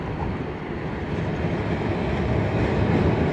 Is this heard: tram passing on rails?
yes